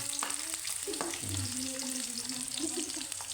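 Chopped onions sizzle and fry in a hot pan, a steady crackling hiss up close with a few stirring scrapes, no voices.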